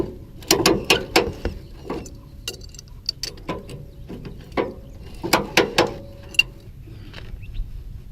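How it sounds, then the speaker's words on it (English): A ratchet strap is cranked tight on a tow dolly holding a car behind an RV, giving close, crisp clicking in quick rhythmic clusters with short pauses between pulls. "now we're going to go and ratchet it up"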